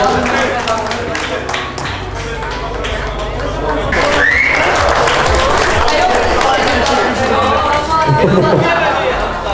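A crowd applauds at an outdoor drift show as a driver finishes his first run on the track, scattered clapping and chatter mixed with an announcer's loud amplified voice, and one brief rising whine midway.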